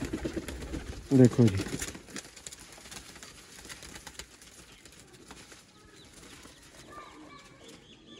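Sialkoti golden kamagar teddy pigeons make a short, loud burst of wing flapping near the start, followed by soft cooing and faint bird sounds, while someone speaks briefly.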